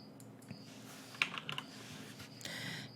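Keys clatter in short bursts on a computer keyboard while settings are entered in an image editor, with a quick cluster of clicks in the middle and a steadier patter near the end, close and fairly quiet.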